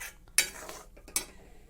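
A spoon stirs fish egg curry in a pot, giving two sharp metallic clinks against the pan with soft scraping and bubbling between them, close and otherwise quiet.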